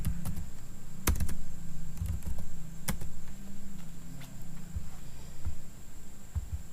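Keys clicking as a command is typed on a laptop keyboard, a few scattered sharp taps over a steady low electronic hum, close and fairly quiet.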